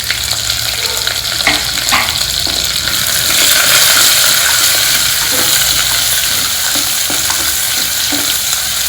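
Chopped onions sizzle and crackle in a pan of hot oil with chili powder for homestyle South Indian sambar, a steady close frying hiss broken by stirring scrapes throughout.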